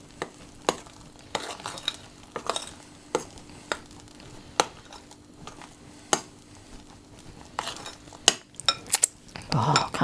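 A spoon working raspberry coulis into cream for cranachan, with soft stirring and a series of sharp clinks and taps of utensil against bowl, ending in a louder burst of scraping.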